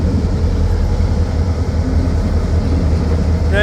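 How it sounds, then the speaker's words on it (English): Yard locomotives pull a string of rail cars, including insulated freezer cars, through a train yard, giving a steady, loud low rumble and rolling drone throughout. "Nice yard locomotives."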